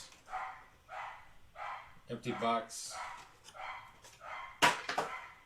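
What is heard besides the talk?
dog barking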